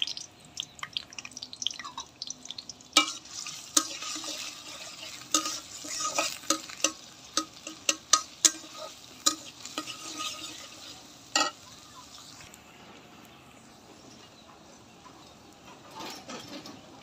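Onion and green chili spit and crackle in hot oil, with sharp pops and spatter bursts over a softer sizzle, busiest in the middle and settling to a low hiss.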